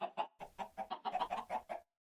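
Minecraft chickens cluck in a rapid run of about a dozen short, clear calls, close and fairly quiet, ending abruptly into silence.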